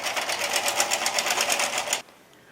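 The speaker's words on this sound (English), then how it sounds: "I'm going to knit one row slowly on this key plate 1, and then a second row" Ultimate Sweater Machine knitting machine with its carriage pushed across one row on key plate 1: a fast, even rhythmic clatter of needles, close and loud, stopping abruptly near the end.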